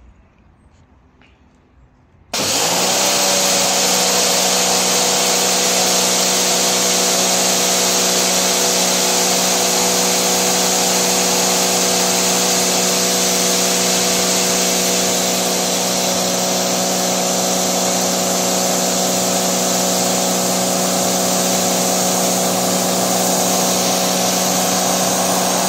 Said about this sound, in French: On va refaire le test du Karcher.